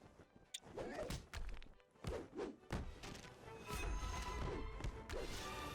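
A burning object is smashed in the fantasy game Dungeons & Dragons Online: several heavy thuds and crashing whacks land in irregular bursts over a soft ambient background, with some quiet vocal sound between the blows.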